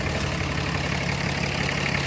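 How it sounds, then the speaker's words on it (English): A 2008 Cummins 6.7L diesel truck engine idles with a steady, continuous low rumble and even mechanical drone, heard up close with no voices. "This is where you get all your diesel and motor noise"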